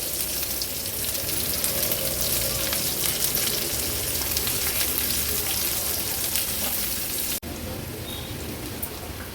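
Long-sliced onion goes into hot oil with crackled cumin, giving a loud, dense, continuous sizzle like heavy rain, with a brief dip before the frying carries on.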